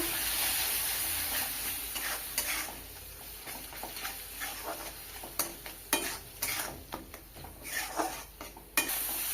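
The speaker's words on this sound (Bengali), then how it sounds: "মশলা সুন্দরভাবে কষিয়ে নিয়েছি।" Spices sautéing in a pan for a potato and pointed gourd curry: a constant hissing sizzle with repeated scraping and clattering strokes of a spatula against metal, close and without talk.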